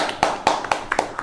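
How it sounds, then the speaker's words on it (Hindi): At an online public speaking competition result announcement, a few hands clap for a winner in sharp, uneven claps, close and fairly loud over a short stretch. "तो जोरदार तालियां हो जाए इनके लिए"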